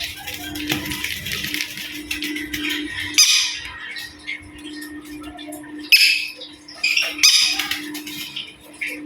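A green-cheeked conure squawks close up in repeated harsh bursts, with several sharp louder outcries standing out against a background of faint chatter and rattling.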